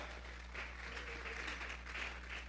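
A church congregation claps together as an offering of praise to God, a soft, fairly distant wash of applause over a low steady hum, with rhythmic swells of clapping.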